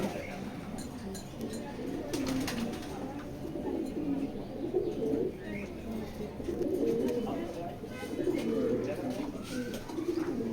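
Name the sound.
racing pigeons cooing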